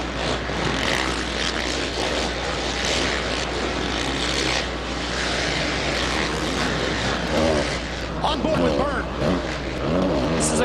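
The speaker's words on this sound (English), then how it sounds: "You can hear how much power, how much noise these 450s put out." 450cc supercross motorcycles racing and jumping in a stadium at the 2007 Anaheim round, engines roaring loud and continuous with revving swells and throttle changes, a crowd and announcer voice mixed beneath.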